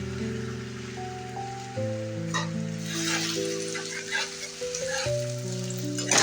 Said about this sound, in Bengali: আদা রসুনটা দিয়ে একটু ভেজে নিতে হবে, যাতে আদা রসুনের কাঁচা গন্ধটা চলে যায়।